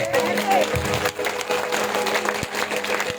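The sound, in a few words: congregation clapping hands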